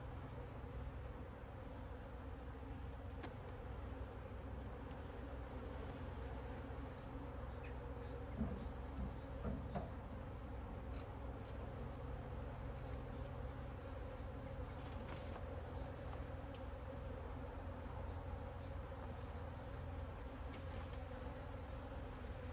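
A dense, continuous hum of many honeybees from a drone-laying colony being worked, steady and low without pause, with occasional faint clicks and knocks in the background.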